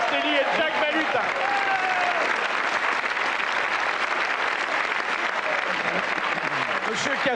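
Steady applause from a television studio audience on a French panel game show, dense and continuous for several seconds, with a few voices faintly audible underneath early on.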